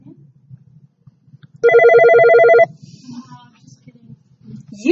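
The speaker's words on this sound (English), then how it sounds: "while I answer the phone" A classroom telephone gives one loud electronic ring, a buzzy, pulsing trill lasting about a second. Faint children's chatter and room noise can be heard before and after.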